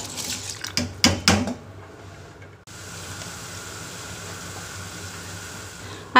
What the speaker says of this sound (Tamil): ரெண்டு லிட்டர் தண்ணி சூடு செஞ்சு, ரெண்டு தேக்கரண்டி எண்ணெய், ரெண்டு தேக்கரண்டி கல்லுப்பு, ஊற வச்ச பாஸ்மதி அரிசியும் போட்டு